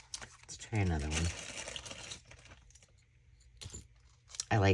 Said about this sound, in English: I like these typewriter keys.